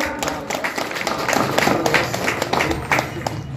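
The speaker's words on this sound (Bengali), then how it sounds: "তো ওনার জন্য একটা হাততালি হয়ে যাক।" Crowd applauding an award-winning poet at a Namasudra community fair stage in Boalmari, a dense run of outdoor hand claps that carries on steadily, with some voices mixed in.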